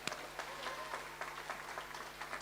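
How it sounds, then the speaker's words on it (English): A small audience claps for the Prime Minister at a Girmit Remembrance Day event, with thin, scattered applause that stays faint and distant throughout. "Let's give one big round of applause to our Prime Minister."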